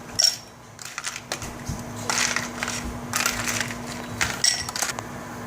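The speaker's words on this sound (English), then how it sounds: "we filled up a 16-ounce glass of ice cubes to the top" Ice cubes from a portable Dometic HZB-12SA ice maker are dumped into a 16-ounce glass, making loose clattering and crunching bursts with a few sharp clinks, close by and alone.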